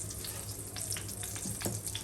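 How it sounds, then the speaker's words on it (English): Bread slices toasting in a pan, a steady soft sizzle and crackle with faint scraping and stirring clicks, close and moderately quiet, no voices. "Frying it, we have to toast it real good in this."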